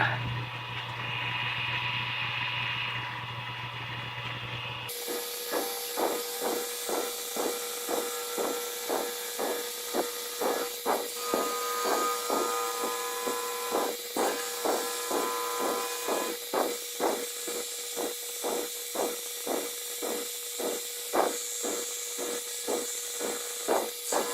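A burn wire presses against a turned wooden egg-shaped box spinning on a lathe, a steady motor whine with rhythmic repeating friction pulses, close and moderately loud.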